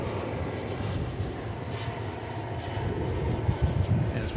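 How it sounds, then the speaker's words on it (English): An American Airlines jet bound for San Francisco at DFW Airport holds a steady low engine rumble while readying for takeoff, moderately loud and continuous, swelling slightly near the end. "This is the flight to San Francisco, getting ready to take off"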